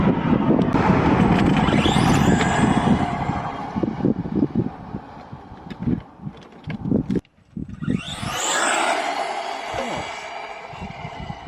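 A Tamiya TT02 radio-controlled car with a big gear kit makes a couple of fast passes outdoors, its whine sweeping up and fading away twice against rough ground and wind noise.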